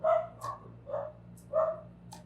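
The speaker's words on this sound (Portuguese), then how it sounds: "Se vocês escutarem barulho de cachorro, já sabe. Tem as cachorrinhas daqui de casa." Small house dogs bark indoors in four sharp, fairly loud yips spaced about half a second apart, with a low steady hum underneath.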